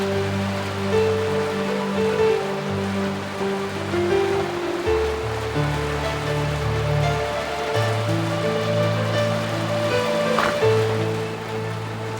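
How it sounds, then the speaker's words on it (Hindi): Heavy rain hisses steadily as an audio drama effect, a constant wash of falling water heard under sustained low, droning music chords that shift slowly throughout, with no voices. "उस दिन बड़ी तेज बरसात हो रही थी"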